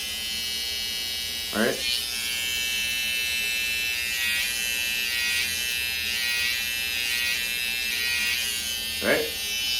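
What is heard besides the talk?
electric hair trimmer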